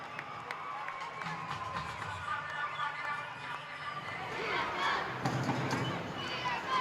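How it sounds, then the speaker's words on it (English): A stadium crowd at a Sri Lanka rugby sevens tournament roars and cheers for Sri Lanka, swelling louder toward the end, a broad wash of voices from across the stands. "The crowd cries out for Sri Lanka"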